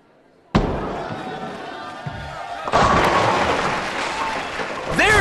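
Bowling ball striking pins for a third strike in a PBA Regional West professional bowling final: a thud as the ball lands and rolls, then a loud clattering crash of pins followed by a sustained crowd roar.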